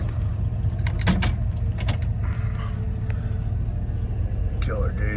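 A restored 1964 Chevrolet C10 pickup with LS power driving along, its engine a steady low rumble heard from inside the cab, with a few light clicks and rattles.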